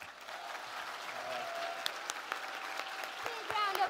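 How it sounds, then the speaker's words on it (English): Applause at a convention evening program, a soft, fairly distant patter of clapping with a few sharper claps, mixed with tonal background sounds and faint voices, swelling slightly toward the end. "Big round of applause."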